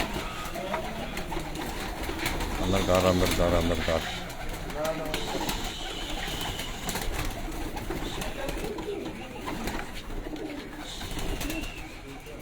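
Pigeons coo softly inside a newly set up loft, their low burbling calls rising and falling beneath someone talking nearby in a steady, close voice.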